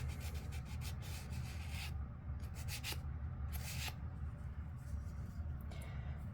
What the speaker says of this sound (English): we just sand the very top just a little bit